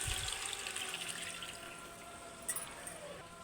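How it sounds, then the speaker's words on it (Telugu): Tamarind pulp extract is poured into an egg curry, a soft continuous liquid pour with a faint trickle. It is fairly quiet and steady throughout, with one small splash near the end. "ఇప్పుడు కొంచెం మనం చింతపండు గుజ్జుతోటి పులుసు తీసాను, ఇది పోసేస్తాను."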